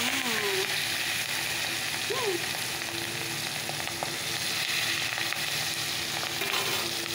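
Fish roe frying in hot oil in a home kitchen after the fish pieces are done, a steady close sizzle running throughout, with a few faint clinks and no talk.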